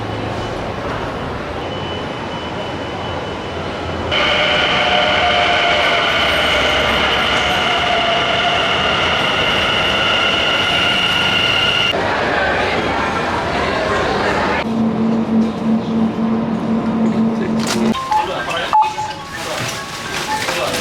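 Loud rumble and whine of a moving train from inside a carriage, the pitch shifting as it runs, ending with rattling and clanks.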